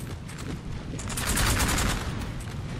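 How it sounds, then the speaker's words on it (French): Massed musket volleys from a Napoleonic battle in Napoleon: Total War with the Napoleonic III mod, sounding as a dense, continuous crackle of overlapping shots that swells louder in the middle, with no voices. "La fusillade est intense, hein."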